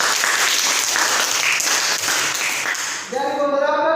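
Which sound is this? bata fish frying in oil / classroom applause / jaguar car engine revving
classroom applause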